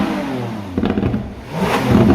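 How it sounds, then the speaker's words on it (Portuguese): Lamborghini Aventador V12 engine revving in short bursts, loud and close, with a harsh, rough low growl that swells again toward the end. "O que a Lamborghini fez na Aventador foi mudar essa característica desse V12 e trouxe mais notas ríspidas e embaralhadas com som um pouco mais grave."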